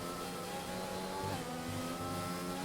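A racing car's engine revs with uneven, jabbing throttle, and the tone rises and dips in short bursts. It sounds faint and somewhat distant, with no voices over it.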